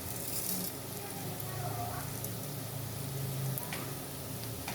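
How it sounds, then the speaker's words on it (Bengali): Whole cumin seeds sizzling in hot oil in a kadai over fried onions, a steady close crackle with faint stirring clicks running throughout. "পেঁয়াজ ভাজা হয়ে গেছে, এর মধ্যে আমি দেব সামান্য পরিমাণ আস্ত জিরা"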